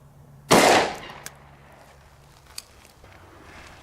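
A Smith & Wesson 625 revolver in .45 Colt fires Sig Sauer 230 grain V-Crown ammunition into ballistic gelatin: one loud, sharp gunshot with a short decaying tail, followed by a few faint clicks.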